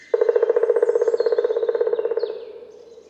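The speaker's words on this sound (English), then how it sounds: "The springtime forest is full of the characteristic sound of drumming, the special territorial and mating call of the woodpecker." A black woodpecker in a springtime forest drums a rapid, even roll of about two seconds on wood, close and resonant, fading out at the end.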